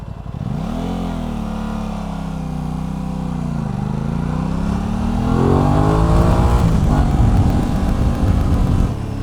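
A roughly 100-horsepower motorcycle pulls away along an open road, its engine note climbing through the revs, dipping at a gear change, then surging louder as it accelerates, with steady wind and road noise underneath.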